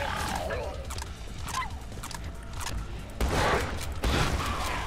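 Shotgun blasts in Killing Floor 2, two loud booming shots in the second half over a busy background of game noise and effects.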